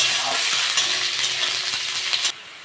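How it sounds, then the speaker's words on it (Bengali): Onions frying in mustard oil with cumin and dried chillies, a loud bright sizzle with light scraping and tapping from stirring, dropping away sharply near the end. "পেঁয়াজটা একটু ভেজে নেবো"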